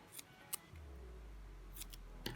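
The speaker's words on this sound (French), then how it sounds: "je prends le scotch double face et je découpe 2 petits carrés" Scissors snip double-sided tape into small squares at a sewing table, a few short, crisp cuts heard close up against a steady low background hum, with no talking.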